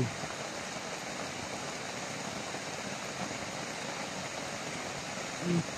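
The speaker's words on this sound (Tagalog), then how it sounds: "Ang lakas ng ulan." Heavy rain in a rural Philippine copra-drying area: a steady, dense hiss of downpour continues unbroken at moderate loudness, with no clear voices over it.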